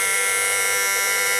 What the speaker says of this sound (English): we have our buzzer working, which will alert us to low oil pressure.